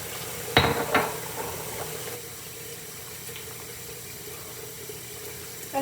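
Tap water runs into a clogged bathroom sink to rinse a makeup sponge: a couple of quick clattering knocks at the start, then a faint, steady trickle of running water.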